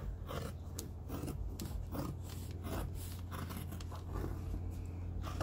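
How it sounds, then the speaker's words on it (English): Heavy, comfortable scissors snipping through material with repeated crisp cuts and a rubbing, shearing texture in an irregular rhythm, close up and alone. "It cuts through so smoothly because they have a nice amount of weight to these scissors"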